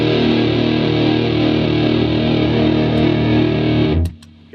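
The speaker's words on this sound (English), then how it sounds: "Here's the fuzz pedal." Electric guitar played through a fuzz pedal, a loud sustained buzzing chord with thick, saturated harmonics that rings steadily and then is cut off abruptly near the end.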